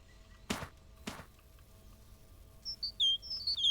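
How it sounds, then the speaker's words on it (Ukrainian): In the game My Summer Car, two sharp knocks early on, then quiet, followed by a burst of high, clear bird chirps and whistles near the end. "Співають пташки"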